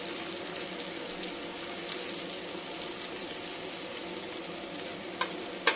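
Paneer cubes frying in a pan for palak paneer, a steady, dense sizzle throughout at moderate level, ending with a couple of brief clinks, no talk.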